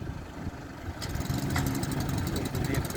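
A generator engine runs steadily at a rescue station, a continuous mid-pitched mechanical drone that grows slightly louder and busier partway through, with a faint rattling texture throughout.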